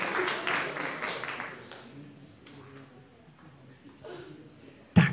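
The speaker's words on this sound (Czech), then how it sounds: "Tak velký aplaus pro vás" An audience applauds the second-place winners at a short-film competition awards ceremony. The clapping is strongest at the start and then fades to scattered claps, with a voice speaking over it and a sharp knock right at the end.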